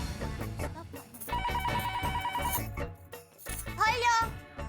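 A telephone rings in a home scene, a steady tonal ring pulsing for about a second amid background music and voices.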